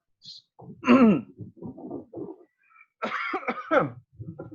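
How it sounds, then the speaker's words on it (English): Several harsh, raspy coughs in short bursts, close and fairly loud, with brief pauses between them and no talking. "Sorry, I'm coughing too much."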